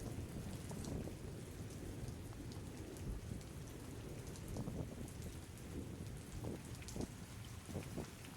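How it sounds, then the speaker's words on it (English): Thunder from a stream's ambient sound effects rumbles faintly in low rolling waves over a steady bed of rain hiss and scattered raindrop ticks, quiet and continuous throughout. "It's like I can hear the thunder, but I'm not hearing the rain."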